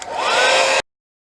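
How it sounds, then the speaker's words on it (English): A heat gun warming the paint on a Harbor Freight 5-drawer rolling tool cart blows a loud, close whooshing rush for under a second, then cuts off abruptly into silence. "I got a heat gun."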